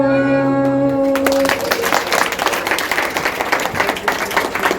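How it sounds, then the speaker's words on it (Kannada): Applause and clapping from a crowd at a children's talent event at the Panchamukhi Anjaneya temple in Kyatanahalli swell up after a held musical tone fades, continuing steadily with dense, irregular claps. "ಇನ್ನೊಂದು ಬಾರಿ ಎಲ್ಲರೂ ಚಪ್ಪಾಳೆ ಮೂಲಕ ಅವಳಿಗೆ ಪ್ರೋತ್ಸಾಹಿಸಬೇಕಾಗಿ ಕೇಳ್ಕೊಳ್ತಿದ್ದೀನಿ"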